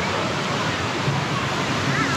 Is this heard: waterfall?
yes